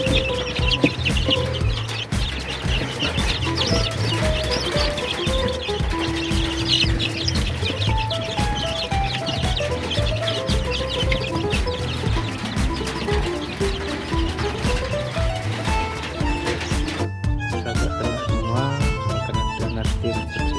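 Many young chicks cluck and chatter continuously at close range, with overlapping calls throughout and occasional louder squawks.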